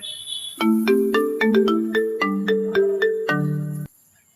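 A melodic phone ringtone plays a short bright tune of bell-like notes for about three seconds, then stops into near silence.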